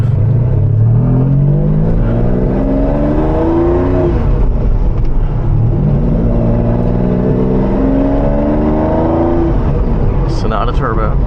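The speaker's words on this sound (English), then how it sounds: "Sonata Turbo, ladies and gentlemen. Surprisingly fast, a Sonata Turbo." A Hyundai Sonata Turbo sedan accelerates hard through several gears, its engine note rising in steady sweeps with brief dips at each shift, loud and close from inside the cabin, with voices talking over it.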